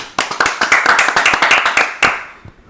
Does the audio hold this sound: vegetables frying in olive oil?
no